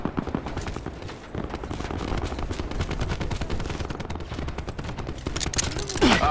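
Rapid, sustained gunfire in a video game strikes a robot, forming a dense, fast stream of loud cracks that grows heavier near the end, with no pauses in the barrage.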